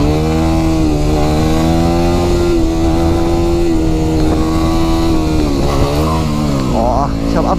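A Yamaha WR250 motorcycle held in a wheelie revs loud and close, its engine note rising and falling steadily throughout without pause.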